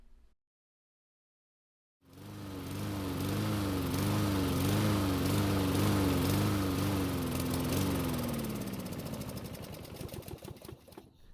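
A lawn mower with a plastic Briggs engine starts after a moment of quiet and runs with a steady chugging drone, then sputters and dies out toward the end.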